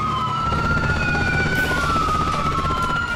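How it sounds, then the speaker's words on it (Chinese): Police sirens wail continuously at a crime scene in San Antonio, Texas, a steady rising and falling tone over low traffic rumble, loud and unbroken throughout with no talk. "没断过的警笛声"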